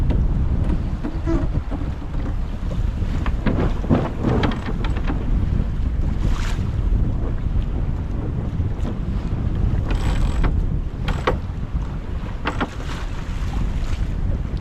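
A sailboat under way at sunset near a lighthouse, with strong wind buffeting, water rushing and slapping the hull, and occasional creaks and clanks of rigging.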